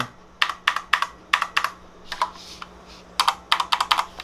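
Light, clicky keystrokes on a COX CK01 mechanical keyboard with red switches and ABS keycaps, typed in short bursts with brief pauses between, close and clear with no talking.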